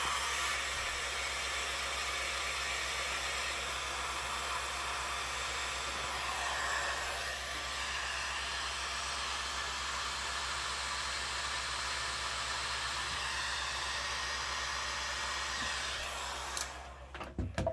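A heat gun shrinks tubing onto a jig hook, giving a steady, close blower whoosh that runs unbroken and fairly loud, then stops abruptly near the end with a few clicks.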